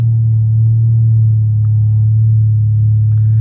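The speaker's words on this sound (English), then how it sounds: "That drone off that exhaust is bonkers" Steady low exhaust drone from a Volkswagen Golf R at cruise, a loud constant hum heard from inside the cabin with no break or change.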